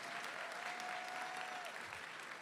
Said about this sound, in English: Go ahead, applaud for him.